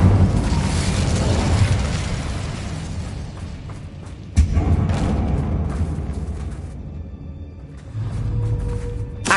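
A fire spell, Incendio, cast in Hogwarts Legacy: a loud, sustained roaring blaze of flame with a sharp burst midway, dipping briefly before surging again, no voices heard.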